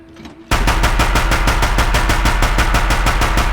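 A rapid-firing gun in Horizon Zero Dawn opens up after a short quiet moment and fires loud, evenly spaced shots in one unbroken automatic stream lasting about three seconds.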